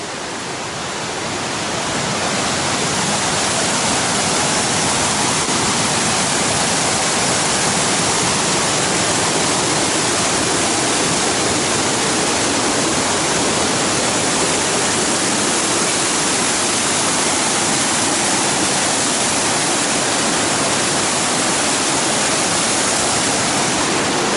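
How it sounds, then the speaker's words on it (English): River rapids on the Appalachian Trail, a steady, loud roar of rushing water that fills the whole stretch without letup after a brief swell at the start. "I gotta go check out these rapids"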